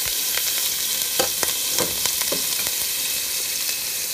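Shallot sizzling in a tablespoon of hot oil in a pan, a steady loud frying hiss broken by crackles and pops from stirring, with no voices over it.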